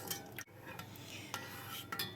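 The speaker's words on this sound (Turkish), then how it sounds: "Karıştırdım, erittim şekerimi güzelce." Sugar and water are stirred in a pot to make syrup for flour halva, giving a quiet scraping and clinking of a spoon against the pot with a few brief knocks, close and faint, with no talk.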